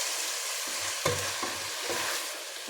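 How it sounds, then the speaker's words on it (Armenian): Vegetables frying in a pan for a vegetable soup give a steady broadband sizzle, broken now and then by stirring scrapes, with no voices. "Տապակում եմ։"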